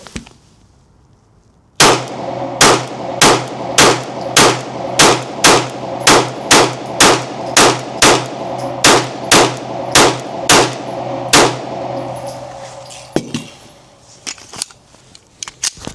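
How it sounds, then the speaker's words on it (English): A Gen 6 Glock 45 fitted with a Gen 5 Radian Ramjet fires MagTech ammunition in a fast, evenly paced string of about seventeen sharp, loud, close shots, followed by a few fainter pops. "but for now, let's just keep shooting."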